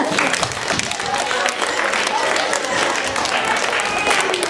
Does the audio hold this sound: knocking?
no